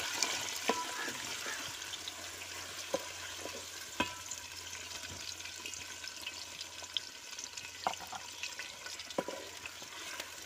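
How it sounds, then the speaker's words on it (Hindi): Onions frying in hot oil for Hyderabadi chicken dum biryani, a steady close sizzle and crackle with scattered sharp pops and stirring clatters throughout, no talking. "ये देखिए हमारा तेल गरम हो गया। अब इसमें हम प्याज डालेंगे।"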